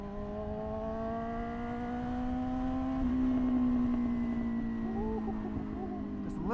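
A Yamaha R6 sport motorcycle engine hums steadily while riding through traffic, its tone rising smoothly with a brief shift midway, then climbing again near the end.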